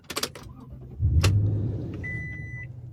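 2019 Toyota Tundra TRD Pro CrewMax with a 5.7-liter engine and modified TRD exhaust started with a key: a few clicks and key jingles, then the engine cranks and catches into a loud, steady idle with a faint chime.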